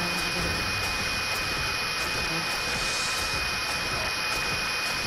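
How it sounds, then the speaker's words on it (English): A steady, droning helicopter rotor and engine noise, fairly loud and continuous, with faint rhythmic chopping and no clear speech. "There's a helicopter."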